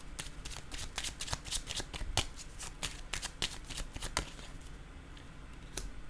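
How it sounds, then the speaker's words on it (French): Rapid crisp flicks and slaps of playing cards being handled and laid down on a table, a fast irregular run of close, fairly quiet taps that thins out toward the end. "Je vais déposer une carte sur menacé."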